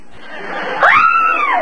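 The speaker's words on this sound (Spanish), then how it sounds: "en vez de pegar esos gritos que nada más descontrolan" A single shrill scream that rises and then falls, from a character in the Mexican comedy show Chespirito (El Chapulín Colorado). It is loud and close over quiet background noise.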